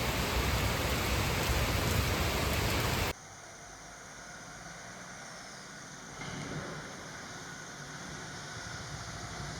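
Steady rain pours down on a monsoon wildlife safari, a dense hiss that drops sharply after about three seconds to a softer patter, with a faint engine hum running underneath.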